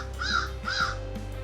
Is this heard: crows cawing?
yes